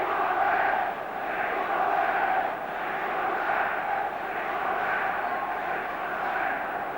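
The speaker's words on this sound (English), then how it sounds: ""We want a ref" is the chant from the crowd." Football crowd at the 1970 FA Cup final replay between Chelsea and Leeds United chanting "We want a ref", a broad, distant roar of many voices rising and falling in steady waves throughout, with no close talk.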